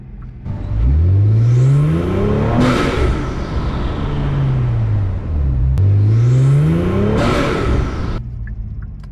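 Kia Stinger GT with the 3.3-liter twin-turbo engine and an Injen intake, revved twice in loud rising-and-falling sweeps with turbo whoosh and gurgling on the drop-off, close by with no talking.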